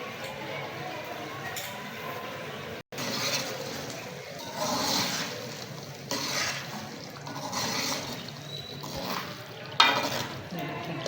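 Yogurt stirred into a beef and potato kofta masala in a pan, soft wet squelching and scraping strokes that come in uneven bursts, fairly close and quiet, with a brief dropout partway.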